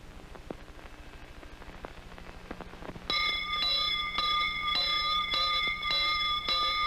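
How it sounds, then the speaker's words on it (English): After a few seconds of hissy background noise, bright bell chimes start and ring in a steady, repeating pattern, loud and close. "I'm your school bell, ding dong ding."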